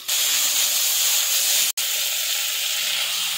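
Onions with salt fry in a pan for a pea and makhana dish, a loud, steady, close hiss with one brief cut near the middle.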